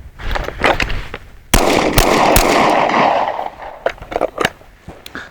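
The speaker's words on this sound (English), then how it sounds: "it was pretty pleasant gun to shoot, even with a can on it" A Jim Fuller 5.56 NATO AK rifle with a suppressor fires a string of sharp, close reports, with irregular spacing between shots, one longer burst of rough noise and quieter clatter trailing after.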